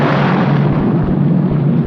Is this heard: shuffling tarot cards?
no